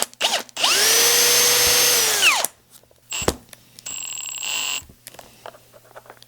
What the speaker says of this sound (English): We are gonna be drilling the holes just to make this go a little smoother.